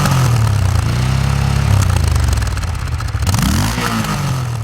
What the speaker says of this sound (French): Les échappements de toute beauté ne font pas seulement de la figuration, ils donnent aussi de la voix